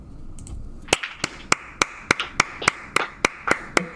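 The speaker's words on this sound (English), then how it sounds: "No, you deserve the applause." Sharp, evenly spaced claps at about three per second ring out close by after a quiet start, with no talking.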